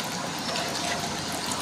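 Water pours steadily from a tap in a kitchen while a crab dish is being mixed by hand, a continuous close gushing that runs without a break and with no talk.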